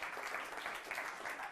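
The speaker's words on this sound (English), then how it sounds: "Give everyone a round of applause." A mentalism show audience applauds, a faint, steady wash of many hands clapping heard from a distance.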